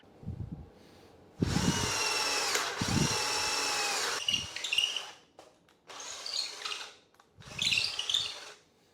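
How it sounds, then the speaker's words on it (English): A cheap cordless drill whines loudly in several bursts while boring holes, the first long and steady, later ones shorter with rising and falling pitch as a bigger bit bites. "We're gonna try the bigger bit"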